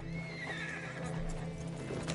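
A horse's hooves clip-clop steadily in an Old West scene, with a whinny heard over a constant hum, close and loud with no talk.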